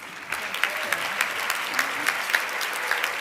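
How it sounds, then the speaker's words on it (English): Guests at a Women of Achievement celebration give a rousing round of applause for Dr. Nancy Bobrow, a full crowd clapping steadily and warmly, with a faint murmur beneath the clapping. "please give a rousing round of applause to Dr. Nancy Bobrow"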